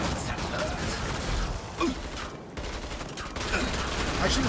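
Rapid gunfire from a laser-sighted gun in the co-op video game Killing Floor 2, dense continuous bursts with mechanical clatter, dipping briefly mid-way before resuming loudly.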